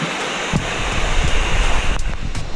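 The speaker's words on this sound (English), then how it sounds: "Looks like two waterfalls." Waterfall at Maunawili Falls on an Oahu hike, a steady broad rushing roar of falling water with wind buffeting the microphone, continuous and fairly loud throughout.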